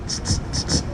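A voice imitates hi-hats with four short, crisp hissing bursts in a steady rhythm, close and moderately loud over a low background rumble.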